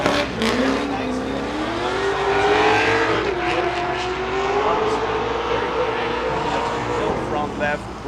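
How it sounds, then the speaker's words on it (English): A V8 drift car at Orange Show Speedway's HOTPIT Autofest qualifying revs hard and holds a loud, steady engine roar with rising and falling pitch. A commentator talks over it throughout. "Just listen to that V8."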